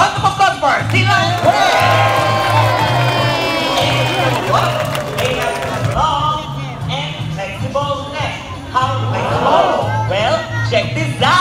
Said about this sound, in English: How about a round of applause for sea lion?